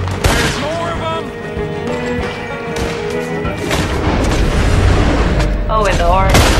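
Long-distance gunshots ring out in Red Dead Redemption 2, several booming reports with echoing tails spread across the moment, while game voices and a person talking sit underneath.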